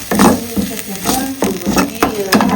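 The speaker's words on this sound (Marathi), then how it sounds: "मसाला पूर्ण भाजून घ्यायचा" Masala roasting in oil in a pan for a chicken curry, with steady sizzling and frying broken by stirring scrapes at close range.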